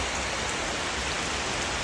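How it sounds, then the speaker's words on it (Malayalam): Steady rain pours down in an even, unbroken hiss that stays at the same loudness from start to finish, with no voices or other sounds over it. "ഓക്കെ, മഴ മഴ."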